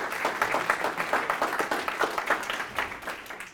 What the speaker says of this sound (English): could we give a warm round of applause